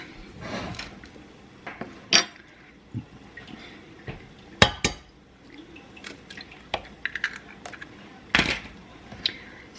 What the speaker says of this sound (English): So now we're going to add the eggs.